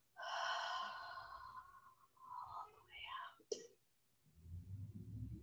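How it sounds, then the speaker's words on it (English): After a soft whispered voice, a person takes a slow deep breath in through the nose with a sharp sniff, then lets it out through the mouth in a long, breathy exhale, quiet and close. "Take one more really long breath in through your nose and out your mouth."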